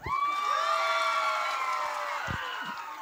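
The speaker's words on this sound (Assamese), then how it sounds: "কেকেদাৰ কাৰণে সকলো এটা হাত চাপৰি" Audience at a Bihu stage show in Simaluguri cheering and whooping loudly, a sustained crowd roar with high excited shouts that holds steady and eases slightly toward the end.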